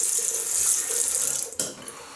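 A tap runs steadily into a sink at close range, a constant splashing rush briefly interrupted as hands move under the stream and get wet.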